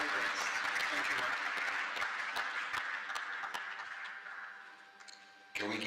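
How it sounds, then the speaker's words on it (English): Applause in a House of Representatives plenary session, many hands clapping in a steady, reverberant wash that slowly fades over several seconds before a sudden louder burst near the end. "Can we give another round of applause?"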